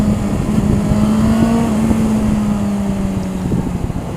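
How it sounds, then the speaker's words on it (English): Motorcycle riding along a winding rock-lined road on a clear day, a steady engine drone with slight pitch drift and constant wind rush, loud and close throughout. "What a good day to ride a bike."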